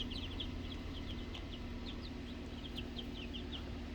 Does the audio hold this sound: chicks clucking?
yes